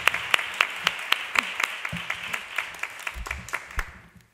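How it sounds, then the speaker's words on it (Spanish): An audience at an indoor institutional event for International Women's Day clapping in sustained applause, with sharp individual claps standing out over a steady patter that fades away at the end. "un aplauso muy fuerte para Pepa"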